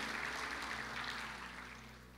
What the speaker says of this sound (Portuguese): Um aplauso para o Aldo.